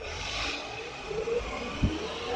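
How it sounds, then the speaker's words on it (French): A car engine hums and rises as the vehicle pulls away from a traffic light, with a brief thump partway through. "On va faire un petit démarrage au feu là."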